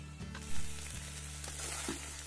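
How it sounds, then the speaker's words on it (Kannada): Chicken sukka frying dry in a pan as the last of the gravy cooks off, a steady close sizzle with a few scraping stirs of a spoon, no voices. "ಸಾರು ಇದ್ದದೆಲ್ಲ"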